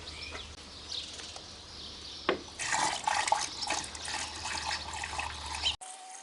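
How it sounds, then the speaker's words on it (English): Distilled water pours and gurgles into a Hyundai Santa Fe radiator opening, a fairly quiet splashing that swells midway and then cuts off abruptly. "We'll top it up with distilled water."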